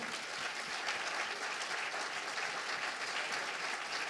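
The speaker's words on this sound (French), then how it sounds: "on peut les applaudir parce qu'ils font du super boulot" Audience applause at a sports and technology event in Lyon, a steady wash of many hands clapping from a crowd, continuous and even with no voices standing out.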